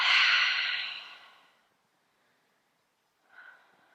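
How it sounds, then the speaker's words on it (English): A deep open-mouth exhale during yoga breathing, a long, loud breathy rush that fades over about a second and a half, followed by silence and then a shorter, softer breath. "Inhale deeply. Open mouth, exhale."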